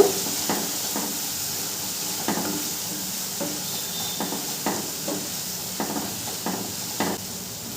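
Spice paste with turmeric powder being fried and stirred in a pan for bhuna khichuri, giving a steady close sizzle with repeated soft scraping strokes of a spoon.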